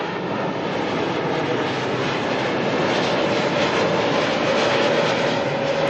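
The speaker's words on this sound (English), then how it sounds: "The A321 Neo." An Airbus A321neo arriving at Auckland Airport from Cairns, producing a continuous, fairly loud broadband engine rush with a faint whine that holds steady and swells slightly toward the end.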